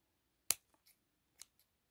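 Scissors snip the yarn ends on a small crocheted Christmas angel, with one sharp close cut and a second softer snip plus a few faint clicks in a quiet room.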